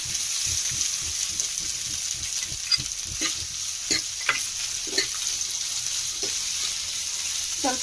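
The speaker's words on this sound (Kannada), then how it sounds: "ಹಂಗೆ ಒಂದು ಸ್ವಲ್ಪ ಫ್ರೈ ಮಾಡ್ಕೊಳ್ಳಿ ಈರುಳ್ಳಿನ" Onions and green chillies frying in a pan for a leafy greens palya, continuous sizzling with a run of rhythmic stirring scrapes, then scattered spatula knocks and taps.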